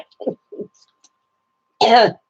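A person coughs and clears their throat, two short, muffled bursts followed by a louder, harsher cough, alone and close.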